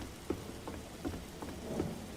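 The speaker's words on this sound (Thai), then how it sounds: "ฉันรู้สึกเหมือนวันนี้ฝนตกแปลกๆเนาะ" Rain falls steadily in a Thai school setting. Soft patters and scattered drops sound close, with a few louder drips spread through the continuous hiss.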